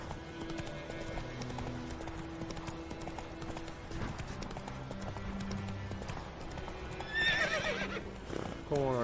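Rhythmic hoofbeats clip-clop along in The Witcher 3: Wild Hunt, followed by a horse's shrill neigh near the end, with a voice over it.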